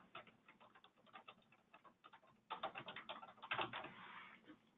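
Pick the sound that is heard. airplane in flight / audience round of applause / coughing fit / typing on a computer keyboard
typing on a computer keyboard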